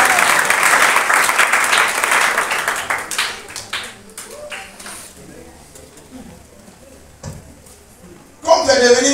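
A church congregation at a Sunday service breaks into applause and clapping, loud and dense at first, then thinning into scattered claps before fading, followed by a short burst of noise at the end.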